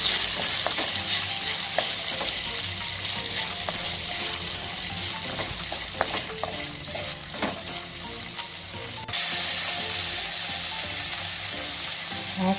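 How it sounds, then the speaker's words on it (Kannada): Mushrooms with salt fry in a pan, a steady bright sizzle broken by repeated stirring scrapes and clicks, with a brief dip midway before the hiss resumes. "ಸ್ವಲ್ಪ ಸಾಲ್ಟ್ ಹಾಕಿ ಫ್ರೈ ಮಾಡಬೇಕು."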